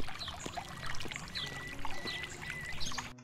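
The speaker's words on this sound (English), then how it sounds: "Okay, so the river is working already." Flowing river water in a medieval RPG game world, a steady trickling, pouring wash that runs continuously, with faint higher ambient tones layered over it and no talking.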